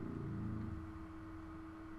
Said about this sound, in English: Do you mind not revving your bike?